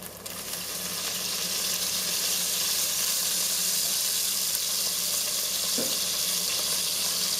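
Chopped anchovies and anchovy oil fry in a pan for a Sicilian seafood chowder, a loud, steady, close hiss that swells just after they go in and then holds, with no voices.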